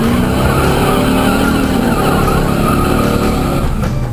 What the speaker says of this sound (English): the first order of business is to heat up and soften the tires